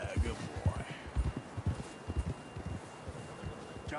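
A horse trots along with steady, close clip-clopping hooves in Red Dead Redemption 2, with a voice talking faintly over the rhythmic thuds.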